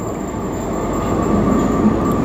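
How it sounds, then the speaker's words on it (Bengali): Moving metro train heard from inside a nearly empty carriage at Cantonment station, a steady loud rolling rumble with a faint high whine that swells slightly partway through, and no talking. "এই ফার্স্ট টাইম উঠে গেছি মেট্রোতে"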